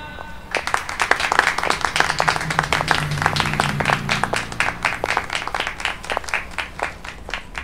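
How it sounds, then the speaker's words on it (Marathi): A crowd at a prize-giving ceremony breaks into applause, many hands clapping in a dense, lively burst that continues steadily for several seconds before thinning slightly. "जोरदार टाळ्या"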